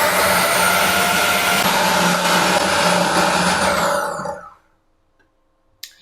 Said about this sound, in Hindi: इसको चलाते हैं अच्छी तरह से चॉपर में।